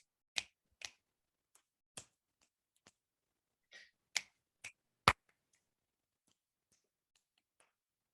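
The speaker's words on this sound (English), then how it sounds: "So we use snapping." Crisp single finger snaps, about nine, sound close and alone in a quiet room at an uneven pace, demonstrating body percussion for an Orff music lesson.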